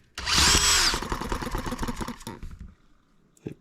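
An H73 small engine is spun over and briefly catches, a loud close burst of mechanical whir and rough firing pulses that sputter and fade to quiet, followed by one faint knock.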